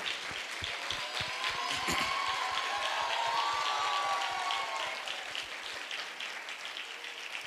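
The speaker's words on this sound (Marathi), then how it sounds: "आपण जोरात टाळू वाजूया." Church congregation applauding loudly to welcome a pastor, dense sustained clapping that fills the room throughout and eases slightly toward the end.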